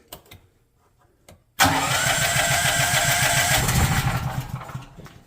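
A propane-fuelled generator engine on a homestead is started with the choke on: a few faint clicks, then it fires abruptly into a loud, rapid, close chugging idle that holds steady, with no talk over it.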